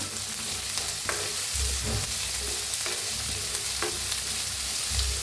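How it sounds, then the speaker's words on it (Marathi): A spoonful of cumin seeds sizzles in hot oil with garlic and ginger while a spoon stirs the pan in steady scraping passes, punctuated by a few low knocks and no speech. "एक चमचा जिरं टाकूया, हलवून घेऊया।"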